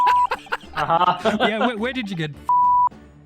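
A censor beep added in editing cuts in twice, a short flat tone at the start and a longer one near the end, framing a burst of close, chuckling speech between them.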